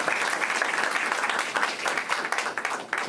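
An audience at the 2024 Seoul youth policy forum gives sustained, even applause, a dense wash of clapping filling the hall for the full stretch.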